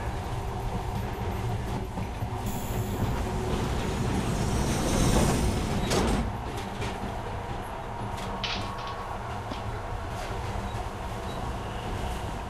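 A metro train pulls into an underground station in a video game, a steady rumbling roar with rail clatter and squeal building to a peak mid-way, then easing into a lower hum.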